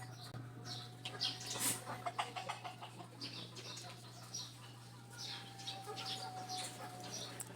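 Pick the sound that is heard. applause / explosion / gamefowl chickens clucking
gamefowl chickens clucking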